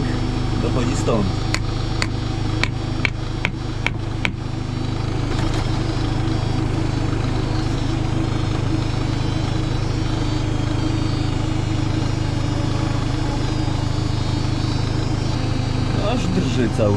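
A running car gives off a steady low hum or buzz from around the fuel tank, close and constant throughout. A few sharp clicks come early on, and someone speaks over the hum.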